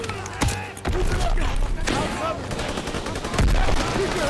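Gunfire in the World War II shooter Call of Duty WWII: sharp shots and bursts crackle through a dense battle din, with a heavy blast near the start and another late on, while voices talk over the action.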